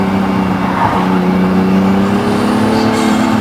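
Acura NSX supercar fitted with Science of Speed downpipes and K&N air filters, a loud steady engine drone heard from inside the car on a normal road, with a slight push in revs toward the end.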